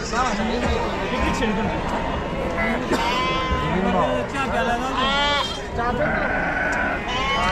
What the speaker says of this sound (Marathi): बोकड बघा मित्रांनो मोठ्या मापाचे बोकड आहे